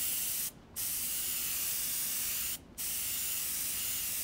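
Spray paint hisses onto a vintage glass bottle from a can held about a foot away, one long continuous spray broken by two brief pauses, steady and close.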